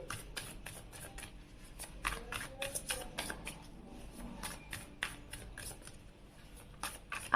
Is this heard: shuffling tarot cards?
yes